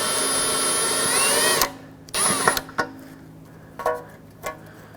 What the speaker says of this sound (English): Let's drill out the top of it.